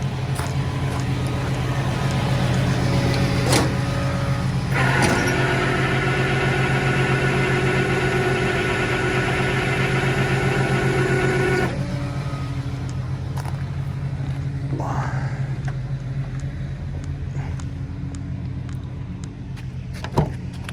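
A tow truck winch takes up tension on the tow line for a Honda with a bad ignition switch, giving a steady whining motor drone for several seconds over a loud, constant idling engine.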